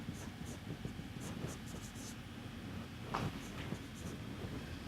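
Chalk or marker scratches faintly across a board in a quiet lecture room, with soft intermittent strokes over a steady hiss and no talking.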